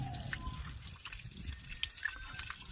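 Water poured into the side hole of a burnt-out farm pump motor, a steady quiet trickle and dribble with small drips, close up and continuous.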